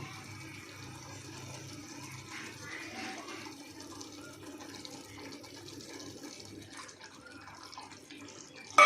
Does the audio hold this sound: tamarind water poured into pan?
yes